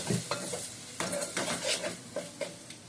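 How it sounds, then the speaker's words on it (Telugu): Salt, coriander powder, chili and turmeric are stirred in a pan for a cucumber and dried fish curry. Repeated scraping strokes of a utensil against the pan sit over a light sizzle, close and clear. "ఉప్పు, ధనియాల పొడి, కారం, పసుపు అన్నీ వేసి కలుపుకొని"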